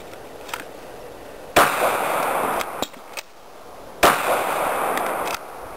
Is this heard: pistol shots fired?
yes